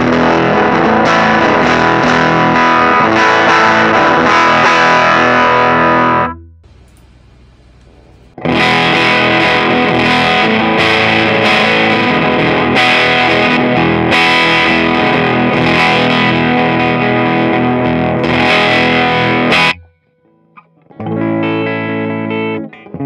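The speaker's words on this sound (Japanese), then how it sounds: "アパートメントアンプでも歪みが作ることができますし、 生々しい音を作れると思います。" Heavily distorted electric guitar through an apartment amp simulator in a DAW, dense loud chugging riffs with a brief near-silent break, then a short final burst, close and alone without talk.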